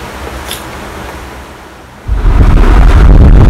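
Wheat-flour gulgule batter is spooned slowly into hot oil: a faint, even hiss, then a sudden loud, continuous frying sizzle erupts close by and holds steady.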